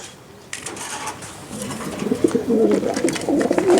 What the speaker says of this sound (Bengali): নেদারল্যান্ডের একটা কবুতর